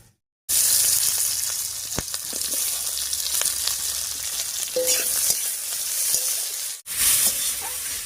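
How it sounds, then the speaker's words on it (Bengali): Chopped onion, slit green chillies and garlic sizzle steadily in hot oil for bitter gourd curry, with occasional stirring scrapes and clinks from a spoon; brief silence at the start and a short dip near the end. "এবার পেঁয়াজ কুচি আর চেরা কাঁচা লঙ্কা দেব।"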